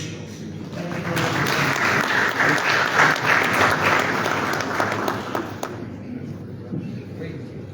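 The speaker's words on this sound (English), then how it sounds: "Let's give another round of applause." Audience at a meeting of West African central bank governors in Liberia applauds, a sustained round of clapping that swells and then fades out after several seconds.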